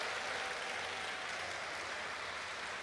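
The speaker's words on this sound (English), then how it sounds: "How about a round of applause for KC Electrical Services?" A gathered audience at an evening presentation applauds, a steady wash of clapping held at even loudness throughout.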